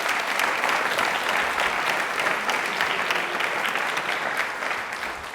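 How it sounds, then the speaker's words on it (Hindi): A studio audience at a televised quiz show at UEM Jaipur breaks into loud, continuous applause that holds steady and tapers slightly at the end, with no speech over it. "तालियां प्लीज एक बार जोरदार हो जाए"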